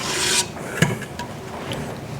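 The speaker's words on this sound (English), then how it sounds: "Just a few mixes with the spatula by hand to get the flour and the chocolate chunks in here." A spatula scrapes and rubs through stiff chocolate chip cookie dough of flour and chocolate chunks, mixed by hand in a bowl: a few close, gritty strokes over about two seconds, no talking.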